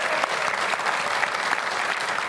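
Steady applause from an audience, a dense wash of clapping hands that holds at the same level throughout.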